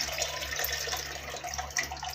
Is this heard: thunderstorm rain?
no